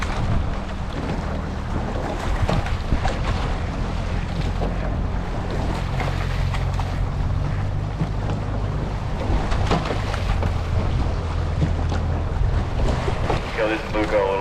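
A rowing crew pulls full strokes on open water, and the rhythmic churn and splash of the oars sits under steady wind buffeting the microphone for the whole stretch.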